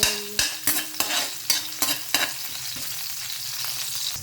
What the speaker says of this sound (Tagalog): nagpainit na kog oil, magisa na ta sa lamas